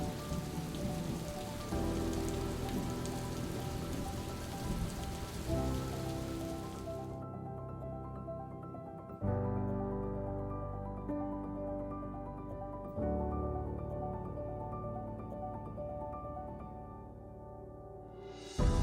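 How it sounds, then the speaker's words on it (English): Torrential overnight rain keeps falling on a morning at a hunting camp in South Africa's Eastern Cape. The downpour is a steady broadband hiss, with tonal background sounds and shifts in level partway through. "the morning of day 2 we woke up to torrential rain"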